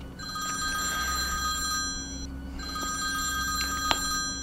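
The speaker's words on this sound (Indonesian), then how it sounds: "Sampai tiba-tiba, kedengeran bunyi telepon umum." A public telephone at a bus stop rings in two long bursts with a short pause between them. The bell is clear and fairly close over a steady background hum, and no one speaks.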